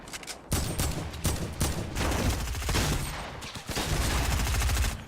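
Heavy video-game gunfire fills the whole stretch, dense overlapping bursts and rapid shots in a loud, continuous barrage with no clear talk.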